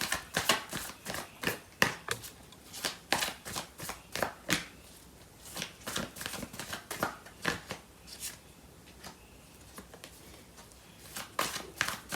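Tarot cards being shuffled by hand in quick, crisp bursts of riffling and flicking, repeated irregularly throughout at close range with no voices.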